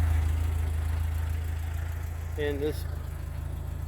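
A 1975 Porsche 914 1.8 idling with a steady low exhaust rumble throughout, while someone talks briefly over it.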